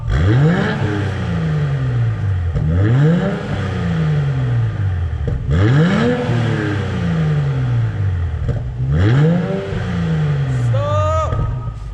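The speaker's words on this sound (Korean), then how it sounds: "오 가변 키니까 굉장히 중저음 소리가 잘 납니다" A tuned BMW X6 40i exhaust with its valve open roars through four deep revving blips, each rising to a sharp peak and falling back in a bassy, rumbling sweep, loud and close, with no talking.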